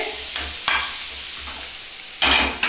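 Bitter gourd and potato fry in a pan with a steady, close sizzle, broken by a few scraping stirs of a spatula and short bursts of louder crackle; no talking.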